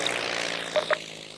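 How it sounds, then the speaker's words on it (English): A propeller airplane drones overhead at a Remembrance Day event, a faint, steady hum with a slowly shifting pitch, as two brief soft thumps pass; no speech. "Airplane."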